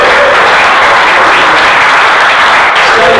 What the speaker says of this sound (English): just give a round of applause to the guys who put this on tonight